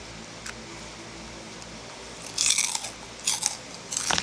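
Crunchy green pea chicharon chips bitten close up, a few loud crisp crunches in short bursts after a quiet start, with no talking.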